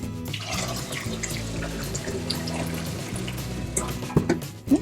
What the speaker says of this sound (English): I'm gonna go ahead and dump some of this water out.